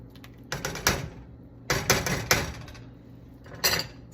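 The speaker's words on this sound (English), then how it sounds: "Let's stir in that lemon zest first so it's incorporated." A utensil stirs lemon zest into cooked rotini pasta in a bowl, giving three short clustered bursts of clinking, scraping and tapping against the bowl, separated by quiet pauses.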